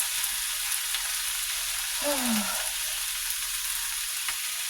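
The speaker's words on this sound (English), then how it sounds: "Look at that bacon. Doesn't that sound so good?" Bacon frying in a pan makes a continuous, even sizzle and crackle, heard close and moderately loud, with one brief faint tonal squeak partway through.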